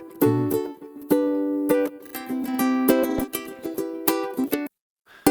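A ukulele is strummed in short, bright chord strokes, some bursts choppy and some ringing, close and clear before it cuts to near silence at the very end.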